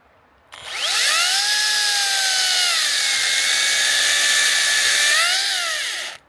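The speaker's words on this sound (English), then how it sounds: "trying to start a chainsaw while it's embedded in wood" A mini Makita chainsaw cuts into wood in one continuous high-pitched whining run that starts abruptly, holds steady and loud for about five seconds with slight pitch dips under load, then stops suddenly.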